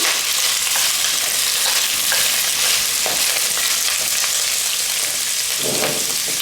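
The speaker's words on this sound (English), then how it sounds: "now we're gonna fry our washed gizzards and hearts" Washed chicken gizzards and hearts fry in a pan, giving a loud, dense, steady sizzle with crackling pops throughout, close up and with nobody talking.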